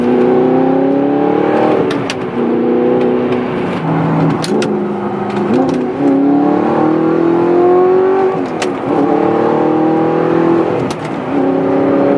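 A warmed-up Audi R8 sports car engine runs close by, idling and rising in several smooth revs with brief sharp ticks between them, loud and steady with no talking.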